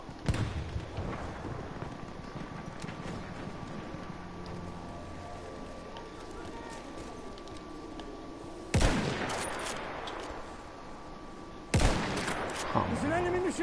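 Battlefield 1 gunfire, a dense machine-gun fusillade rattling loudly throughout, with two sharper bursts swelling in near the end; a voice talks over parts of it.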